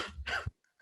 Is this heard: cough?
yes